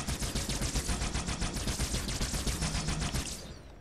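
Needler alien weapon firing in Halo 2 Anniversary: a dense, rapid rattle of pulsing shots, steady and loud for about three seconds, then cutting off into a short fading tail.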